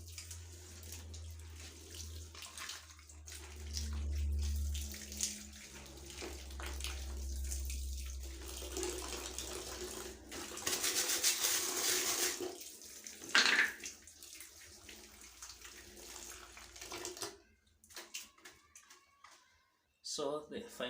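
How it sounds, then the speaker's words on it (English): Clean running water splashes over a Lorenzetti electric shower head as it is rinsed, a faint, uneven hiss that comes and goes while a person talks. "So we rinse it and then we rinse with clean water."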